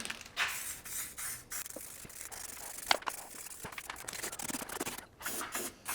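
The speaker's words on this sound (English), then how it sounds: "Last thing to do here is to spritz some rust protection." Rust protection is sprayed onto the brake parts of a BMW E39 530i Touring in short, close hissing bursts with brief pauses between them, with no talk.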